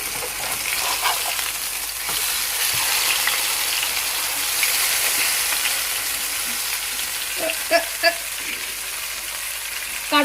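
Sea fish fries hotel-style in hot oil in a Kerala kitchen, giving a steady, close bright sizzle that carries through without a break, with a few sharp pops and clinks near the end.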